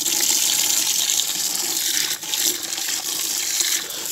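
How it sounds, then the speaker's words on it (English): Steady running water rinses paint residue from the bottom of a bucket used for lining a GAA field, a loud continuous splashing gush with a brief dip midway and no talk. "just wash the bottom of the bucket there"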